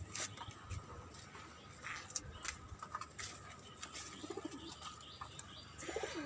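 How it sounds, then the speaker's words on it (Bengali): Domestic pigeons in a loft coo softly and intermittently, with faint chirps and light rustling in a quiet, low-level background. "এদিকেও কবুতর আছে"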